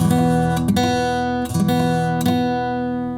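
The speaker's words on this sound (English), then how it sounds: "you're muting the strings here with your hand and with your fingers" A guitar chord is strummed three times at an even pace, the strings sounding buzzy and dull, each strum ringing into the next.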